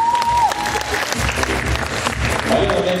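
An audience at a student arts festival claps in a dense, continuous burst, with a voice briefly audible over the clapping.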